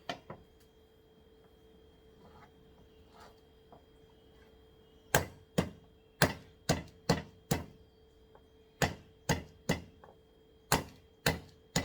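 Knife chopping lemongrass and garlic on a board: a few faint cuts, then a steady run of sharp, evenly spaced chops, close and distinct, with no talking.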